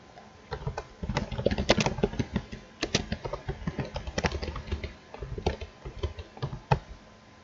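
Someone types on a computer keyboard, entering switch port-security configuration commands. The keystrokes come in quick, uneven bursts of clicks and clacks with short pauses, close up and moderately quiet, with no voices.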